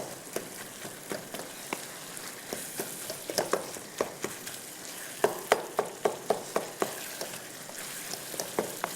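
Chicken cooking down with masala and curry leaves in a pan, the spices drying out, gives a steady crackling sizzle broken by sharp scrapes and clicks from stirring, close and fairly quiet, with no voices.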